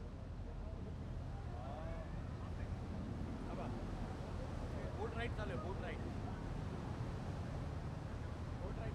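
A tour boat cruising the Seine in Paris gives a steady low rumble of engine and water with wind buffeting, while voices and loudspeaker narration run underneath throughout.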